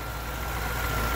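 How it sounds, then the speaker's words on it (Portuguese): A Ford Ka petrol engine idles smoothly after a fuel-consumption repair, a steady, even low hum with a constant drone and no talk over it. "O carro já se encontra aí funcionando suave"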